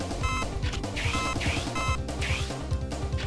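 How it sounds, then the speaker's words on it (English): A game explosion in a Mega Man fan game, a chiptune crash with repeated bursty noise sweeps over steady synthetic game music and rapid blips, loud and continuous. "Kind of a weird explosion there"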